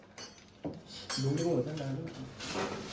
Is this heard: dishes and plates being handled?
yes